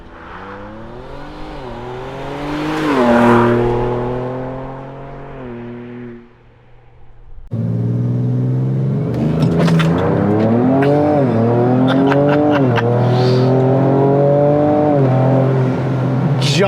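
A Ford Ranger Raptor pickup with a Ford Performance ProCal tune, in sport mode with traction control off and four-wheel high, accelerates hard, the engine climbing through gears loudly and close, a brief lift, then another strong run with gear shifts.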